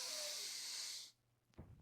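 A deep breath drawn in during a tai chi breathing exercise, a soft airy hiss lasting about a second, then a quiet pause and a brief low rustle.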